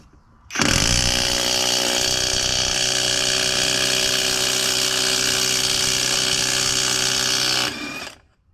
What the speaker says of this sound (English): We'll see if I can remove that nut that I just torqued with the Milwaukee.